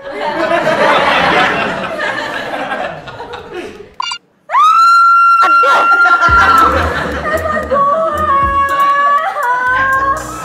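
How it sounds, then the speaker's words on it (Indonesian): A long, piercing scream from a woman cuts in suddenly and holds high for a couple of seconds, after a stretch of excited chatter and laughter. "Gue juga dengar suara teriakan perempuan"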